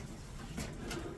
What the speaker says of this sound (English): That's family of pigeons.